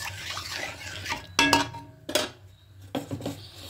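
Rice flour, water and salt are stirred together in a bowl for dudh puli pitha, with scraping and clinking of a utensil against the bowl in a few short bursts, close and fairly quiet.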